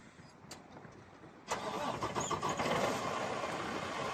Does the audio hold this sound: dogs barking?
no